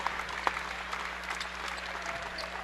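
A high school basketball crowd at a super-sectional game applauds steadily in a gym, a constant wash of clapping with a few sharper claps and faint distant shouts, a low hum underneath.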